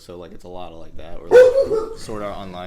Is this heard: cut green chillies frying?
no